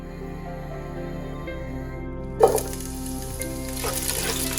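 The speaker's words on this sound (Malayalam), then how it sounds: "മെൽറ്റ് ആയതിനു ശേഷം കട്ട് ചെയ്ത് വെച്ച വലിയുള്ളി ഇട്ട് കൊടുക്കാം." Sliced onions drop into melted ghee in a pan, setting off a sudden burst of close sizzling partway through that keeps hissing steadily over a low background hum, with no talk.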